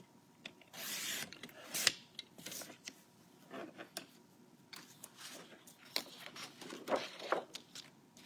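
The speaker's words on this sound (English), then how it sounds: "So let's trim off the labels." Paper being trimmed to remove its labels, faint scattered cutting and rustling sounds with short snips and brushes of paper, quiet and close with no talking.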